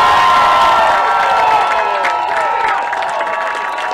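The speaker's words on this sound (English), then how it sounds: "There you hear the crowd down below us." Crowd at a high school baseball playoff game cheers and shouts from below, a loud, dense burst of whoops, high-pitched yells and some clapping that gradually eases over a few seconds.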